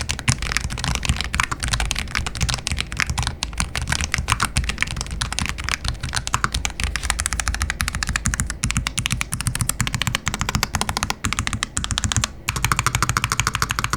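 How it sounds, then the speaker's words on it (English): Rapid, steady keystrokes on a NuPhy Air60 HE low-profile Hall effect keyboard: a dense stream of crisp clicks and clacks heard up close and alone, with a short pause near the end. "The overall sound profile of this keyboard, to me, it does actually sound really good."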